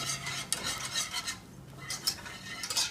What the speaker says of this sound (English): You whisk those in until they are well incorporated.